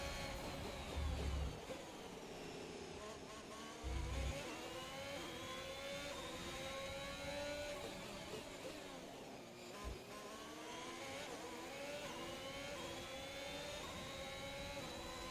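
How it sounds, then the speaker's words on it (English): F1 2021 race cars in a video game scream down the straight at Baku in a slipstream, high engine whines rising and sweeping in pitch, with a few thuds and no voices. "Slipstreaming us down the straight."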